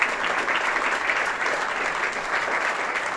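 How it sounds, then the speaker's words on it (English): Steady applause from a crowd in the stands at a women's football match, Partick Thistle Women v Hibernian Women, continuous and even throughout, with no voices standing out. "she'll get a round of applause from those in the stands"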